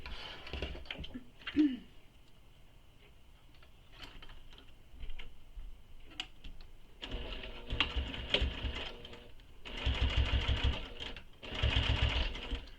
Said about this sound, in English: So we're going to top stitch this edge here along the zipper teeth.